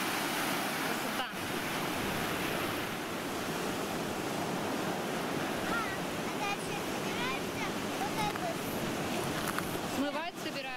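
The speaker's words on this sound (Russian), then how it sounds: "Смотри, как море волнится." Sea waves roll onto the Azov Sea shore in a continuous loud roar mixed with wind buffeting, while brief voices are faintly heard near the end.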